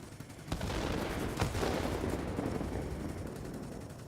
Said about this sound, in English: The guns on this thing are ferocious.